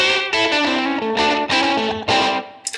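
Electric guitar played through a Line 6 HX Stomp XL with slapback delay, a lively blues phrase of repeated distorted notes and short bursts, each strum echoed by a quick doubled repeat, loud and close with no talking.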